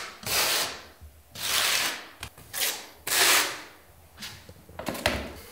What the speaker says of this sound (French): Applique ensuite de la colle à carrelage avec la truelle lissante. Tire-la sur le mur à un angle de 45 degrés.